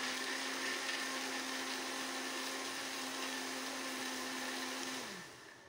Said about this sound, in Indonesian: Langsung saja ini akan kita blender.